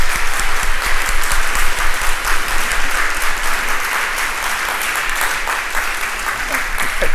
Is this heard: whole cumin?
no